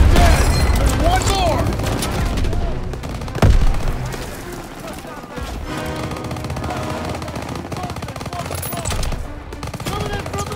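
Dense bursts of rifle and machine-gun fire roar through a World War II battle in Call of Duty WW2, with a heavy boom partway through and shouted orders over the din.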